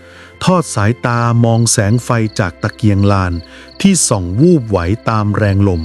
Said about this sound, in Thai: มีเพียงเสียงจิ้งหรีดร้องอยู่ไกล